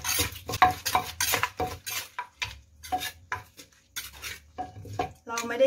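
Peanuts are pounded in a mortar while making Thai seafood papaya salad: a quick rhythmic run of knocks and clattering thuds, close and busy, with brief pauses between bursts.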